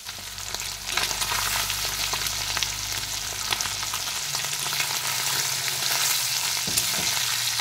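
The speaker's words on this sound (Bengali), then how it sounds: "এবার আমি মাছগুলি হালকা করে ভেজে নেব" Small marinated fish fry in hot oil in a wok, giving a loud, continuous sizzle with bursts of crackling and occasional stirring scrapes, close up and with no voices.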